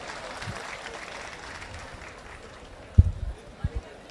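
Crowd applause at a public gathering in Lodwar, Kenya: a steady rustling wash of clapping with a few sharper bursts near the end, with voices mixed in underneath.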